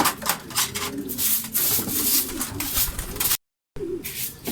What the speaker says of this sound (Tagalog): Nagdatingan na yung ibon